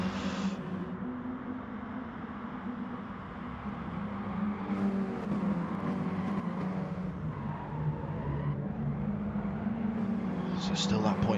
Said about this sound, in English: But now Don Dotter's got Potter McPot right on his rear bumper as they come up the hill now towards this last turn.